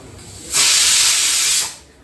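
A pressure cooker vents a loud, close burst of steam, a steady rushing hiss lasting about a second before tapering off, heard alone.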